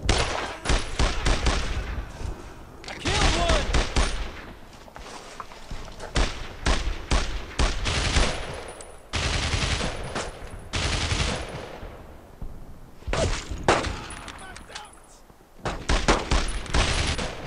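Rapid bursts of rifle and machine-gun fire ring out in the World War II shooter Brothers in Arms: Road to Hill 30, loud clustered volleys separated by brief lulls, continuing for over fifteen seconds.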